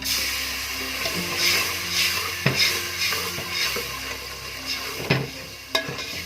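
Spice masala with chilies and tomato paste frying in a pan, a steady soft sizzle broken by several scrapes and knocks of a spoon stirring against the metal, close by with no talking.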